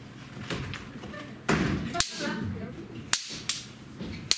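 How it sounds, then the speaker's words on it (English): Several sharp cracks of stage gunshot sound effects ring out at uneven intervals during a school theater play, loud and close, over a steady background hum with some voices. "Gunshots!"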